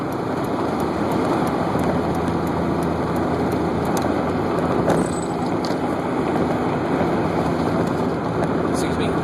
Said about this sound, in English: Driving. Tunnel.